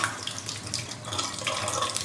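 A household tap in a rental home in Kigali, Rwanda runs at full pressure, a steady hissing splash of water that stays moderately loud and close throughout, with no talking.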